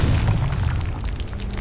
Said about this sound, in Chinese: 揿 RB 嘅爆炸得。